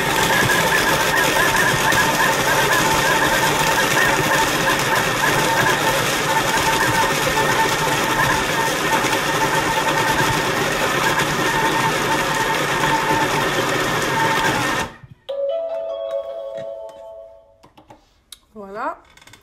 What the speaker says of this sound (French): Donc, on va le mixer encore 15 secondes,